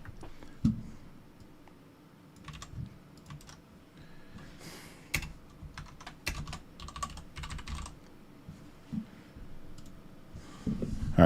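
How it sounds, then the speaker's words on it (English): Keys clatter in scattered bursts of quick clicks on a computer keyboard, close and fairly quiet, with pauses between runs and no voices. "you may hear me type in the background"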